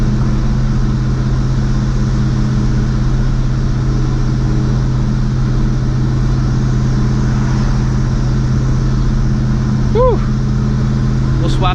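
Supercharged New Edge Mustang GT with a Vortech V1 Ti-Trim blower, 80-pound injectors and an upgraded fuel pump, cruising at steady low revs with a constant loud engine drone and a brief whine near the end.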